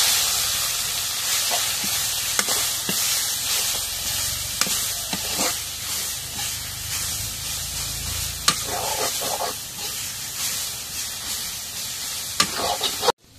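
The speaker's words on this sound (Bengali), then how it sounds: "এখন পেঁয়াজ রসুন ভাজা হয়ে গেছে, শাকগুলো দিয়ে দিই।" Leafy greens are added to a pan of hot oil with fried onion and crushed garlic, giving a loud steady sizzle and hiss punctuated by sharp clacks of a stirring utensil against the pan.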